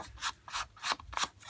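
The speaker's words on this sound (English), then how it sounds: "I am just going to ink the edges of my patterned paper." Patterned paper edges are inked for card making, four quick rhythmic scratchy rubbing strokes, close and fairly quiet, with no talking.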